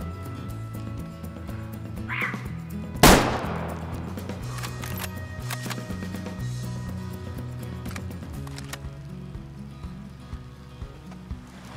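A single loud hunting rifle shot in the video game Way of the Hunter rings out near the start, followed by a fading echo over quiet in-game ambience.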